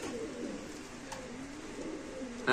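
Pigeons at a pigeon market give soft, low, continuous cooing murmurs at moderate distance, with a faint click partway through and a brief louder bump at the very end.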